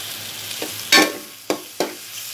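Chopped vegetables and chillies fry in a pan, with a soft background sizzle broken by three or four sharp stirring clatters against the pan.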